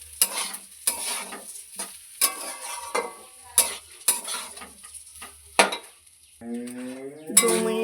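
Soaked rice being stirred in a pan for basanti pulao, a spoon scraping in repeated strokes over a soft sizzle, with a metallic ringing clink near the end.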